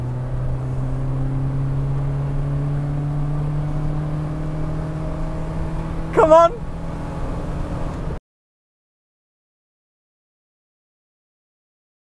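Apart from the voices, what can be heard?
Austin Metro A-Series engine revving while accelerating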